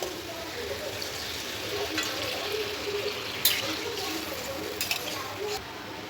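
Water poured into a simmering fish and potato curry makes a continuous rushing, bubbling hiss close by, with a few brief clatters.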